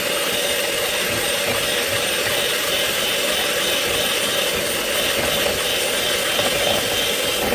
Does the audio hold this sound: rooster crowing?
no